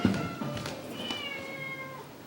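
A cat meows in a staged performance of Phantom: Kiss of Christine, a few drawn-out, rising and falling cries at moderate distance with a faint theatrical room tone behind them.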